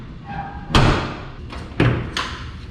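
Three solid door slams in a row from a 1955 Studebaker Commander, heavy thuds close by, each followed by a short ring-out, with faint background murmur between them.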